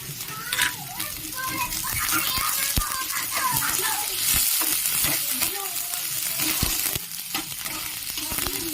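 Semolina and chopped green chillies fry and get stirred in a pan for jhal suji, a steady broadband sizzle with repeated scraping strokes; children's voices and chatter are faintly audible in the background.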